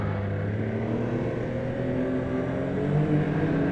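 A turbocharged 2024 Yamaha Sidewinder L-TX LE snowmobile engine droning steadily on the trail, a low continuous hum with layered tones that swells slightly near the end, no voices.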